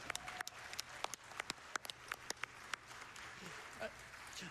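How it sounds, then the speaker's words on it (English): Audience at a speedrun marathon event applauding, a scattered run of fairly faint individual claps with a murmur of crowd noise underneath throughout. "Give yourselves a round of applause."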